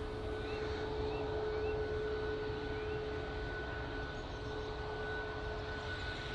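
Jet airliner at Manchester Airport, a distant steady engine rumble and whine holding at a low, even level with a faint sustained tone, no voices.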